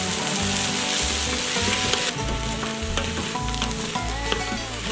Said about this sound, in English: So the carrots and the onions and the celery have been cooking for another 2 to 3 minutes